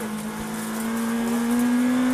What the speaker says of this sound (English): Baumschlager in his Škoda Fabia